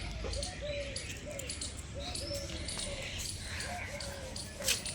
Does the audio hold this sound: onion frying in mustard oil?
no